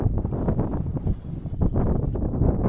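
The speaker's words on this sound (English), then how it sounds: "It's also quite windy." Steady, loud wind on a mountain summit buffets the microphone in gusts, a continuous low roar with no talking.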